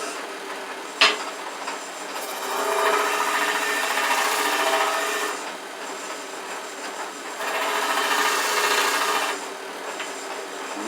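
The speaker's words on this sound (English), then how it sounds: "Time to sand everything down." Hand sanding of hard maple wood for a kitchen knife holder, with a sharp knock, then two long raspy rubbing passes in a steady rhythm, close and moderately loud with no talking.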